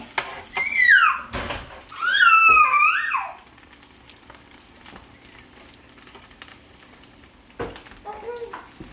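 A sausage and cheese omelette fries on a non-stick griddle with a soft, steady sizzle. Two bursts of high, squealing vocal sounds rise over the sizzle early on, and a few small clatters come near the end.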